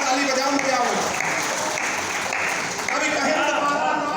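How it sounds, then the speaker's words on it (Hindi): Audience at a comedy kavi sammelan poetry gathering clapping loudly and continuously, a dense wash of applause from a large crowd with voices mixed in, steady for several seconds. "जोरदार ताली बजाओ"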